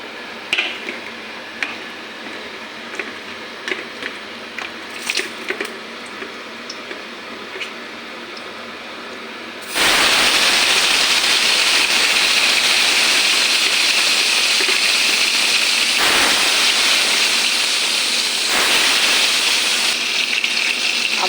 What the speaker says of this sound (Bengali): এখন আমি পরপর সবগুলো ভাজা করে নেব